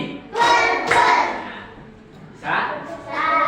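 A class of children claps their hands together in short bursts, two loud rounds of clapping separated by a pause, fairly close and lively, with a teacher's classroom setting around them.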